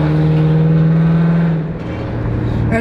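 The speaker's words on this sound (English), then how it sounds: "when you step on the gas, got a little hesitation there" A loud modified Lexus car accelerates with a steady droning engine note that briefly drops and hesitates, then picks back up and revs higher toward the end.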